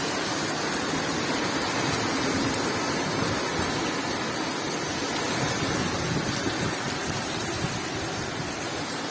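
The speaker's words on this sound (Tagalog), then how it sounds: "Marami pang ulan." Heavy rain pours down in a dense, constant roar with no pauses, loud and close throughout.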